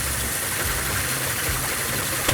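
A Hummer engine fitted with a big turbo runs steadily, a dense, constant mechanical roar with low rumble and broadband noise, heard close and without talk.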